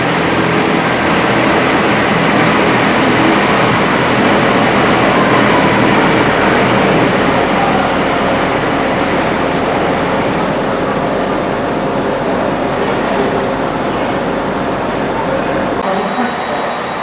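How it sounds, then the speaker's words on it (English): Transport for Wales class 158 diesel unit 158826 passing close by, a loud continuous roar and rumble of engine and wheels that holds steady throughout before dropping away near the end. "There goes 158826, working the 2028 Transport for Wales service to Chester."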